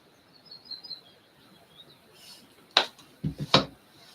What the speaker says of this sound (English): the birds are chirping like it's morning